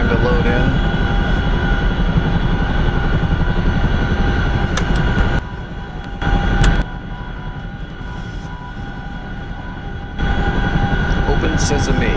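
Heavy rotor and turbine drone of a Chinook helicopter in a video game, a loud steady roar that dips briefly midway before returning, with a person talking over it.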